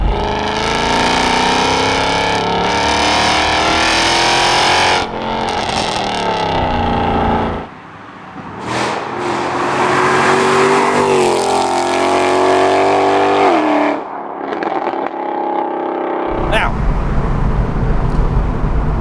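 A straight-piped Renntech Mercedes CLK63 AMG Black Series with a 6.2-litre engine roars loudly up close, revving hard through repeated climbs and gear changes, dropping briefly between pulls, then returning to a heavy rumbling idle.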